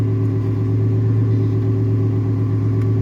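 A two-door Chevrolet Tahoe engine idles steadily at close range, a smooth, even low rumble with no revving.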